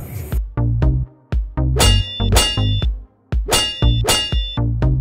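Repeated heavy metallic clangs ring out in an irregular series, a hammer banging hard on a metal lock with bright ringing tails between strikes.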